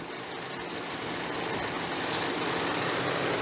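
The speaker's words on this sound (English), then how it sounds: "This engine's running very, very poorly." The 2013 Chevrolet Cruze engine idles rough with a random misfire, a steady loud close rumble with an uneven, shaking pulse underneath, heard on its own with no voices.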